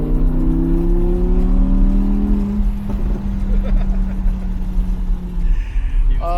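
A 2020 Audi R8 Performance with a naturally aspirated V10 revs hard under acceleration, a loud rising howl that climbs and then drops away as the engine note fades, followed by lighter mechanical noise.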